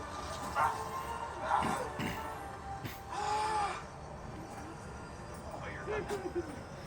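A recorded dog-bark sound effect plays during a Universal Studios backlot tram tour at night, giving a few short barks and yips mixed with people talking and the noise of the tram ride.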